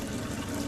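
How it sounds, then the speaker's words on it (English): Water runs from a sink tap in a Jayco Silverline Outback caravan, a faint, steady, brief trickle heard from nearby. "Turn that water on again."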